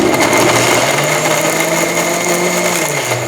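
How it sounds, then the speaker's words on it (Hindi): A kitchen mixer grinder purées two medium tomatoes into paste, a loud, steady high-pitched whir that runs without a break for the whole stretch. "2 मीडियम साइज के टमाटर मिक्सी में पीस कर पेस्ट बना दीजिए।"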